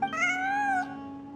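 A single clear cat meow in the Genshin Impact video game, one drawn-out rising and falling call lasting under a second, alone and close.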